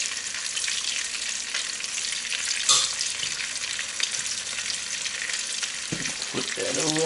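Meat browning in a pan for Irish stew gives a steady, close sizzle, with a brief utensil clatter partway through and some stirring and scraping toward the end.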